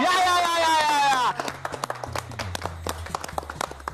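A sustained musical or vocal tone cuts off, followed by scattered, uneven handclaps from a studio audience on a Marathi television game show, a sparse patter rather than a full ovation.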